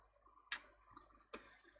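Two sharp, isolated computer keyboard key clicks, hard-pressed, sound close and crisp about a second apart against near silence.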